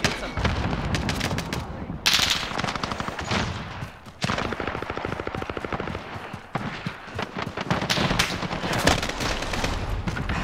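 Rapid automatic gunfire bursts from the Call of Duty: Modern Warfare multiplayer game, loud and dense bursts repeating across the span with brief gaps between volleys.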